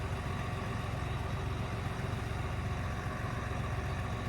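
A tractor engine runs during spring planting in Carolina, giving a continuous low, throbbing drone that stays steady and fairly close throughout, with no talk over it.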